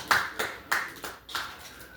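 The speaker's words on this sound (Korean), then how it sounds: "박수." A few sharp claps ring out at a small academic society meeting, about five separate hand claps spaced unevenly over two seconds, fairly close and quiet, with no talk.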